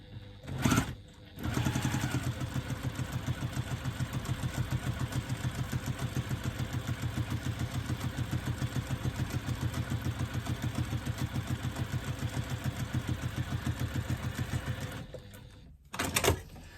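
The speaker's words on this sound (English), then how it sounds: "So I'm now going to put in a second line of top stitching on both sides, again from the same end" Domestic sewing machine top stitching a fabric wristlet bag, running in one long steady rapid chatter of stitches after a couple of short bursts, stopping briefly and restarting at the end.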